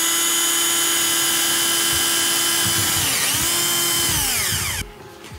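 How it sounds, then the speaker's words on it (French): A power drill bores a starter hole for a saw blade during a desk setup build, a loud, steady high-pitched whine that wavers as the bit bites, then winds down and cuts off near the end. "Maintenant il faut une perceuse pour pouvoir amorcer la lame."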